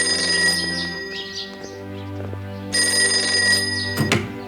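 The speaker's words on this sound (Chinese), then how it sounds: "我去接下电话啊" An old-style telephone bell rings indoors in a repeated, steady electric trill, loud and close, in two bursts with a short gap between them.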